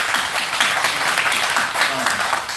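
Applause fills a city council meeting chamber, a dense, even wash of clapping from the gathered public with a faint murmur of voices mixed in.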